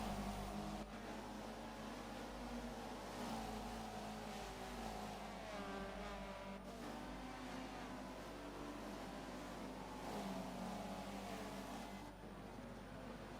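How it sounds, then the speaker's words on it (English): Touring race cars at Brands Hatch keep up a continuous, faint engine drone with rising and falling revs as they race through a section of the circuit, with no talking. "See these cars going absolutely mad through this section."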